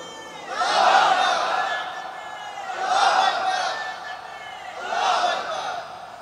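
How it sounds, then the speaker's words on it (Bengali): A crowd at a Muslim religious gathering shouts slogans in unison, three loud rising waves of voices spaced about two seconds apart, with a faint murmur between them. "কেউ তো স্লোগান দেন।"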